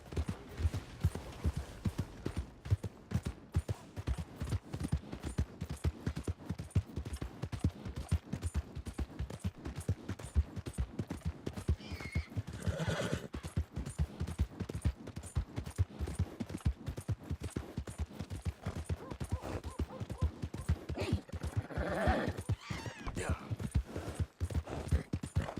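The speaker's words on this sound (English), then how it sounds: "Oh, this is a fast horse, and the handling of the horse is fantastic." A horse gallops in Red Dead Redemption 2, rapid steady hoofbeats pounding throughout, with faint background voices now and then.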